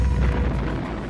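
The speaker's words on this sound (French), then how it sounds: "explosion nucléaire." A nuclear explosion sound effect: a loud, sustained low rumbling roar that stays heavy and steady throughout, with no voices.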